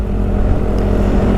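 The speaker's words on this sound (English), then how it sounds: "it sounds a bit like a bearing on the end of a shaft spinning round in the casing or something like that" A motorcycle gearbox running in second gear gives off a steady, loud mechanical whine and hum, like a bearing spinning in its casing, continuous and close with no voices.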